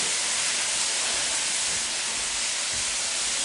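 Vegetables sautéing in butter and oil in a pan for asparagus soup, with potatoes added, give a steady broadband hiss and sizzle that holds evenly throughout, close and fairly loud, with no voices.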